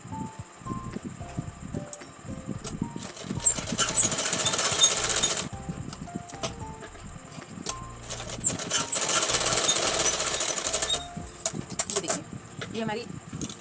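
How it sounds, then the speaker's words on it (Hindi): A sewing machine stitches the rounded sleeve of a Rajputi kanchali in two sustained rapid bursts, starting and stopping, with a person talking between and over them. "जैसे जैसे बाजू में गोलाई आ रही है वैसे वैसे मशीन को रोकते जाना और कपड़े को सीधा करते हुए आपको सिलाई करनी है"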